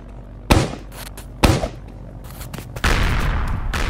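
An egg launcher firing in the Roblox game Mad City, two heavy booming shots followed by a sustained loud blast-like roar of in-game effects.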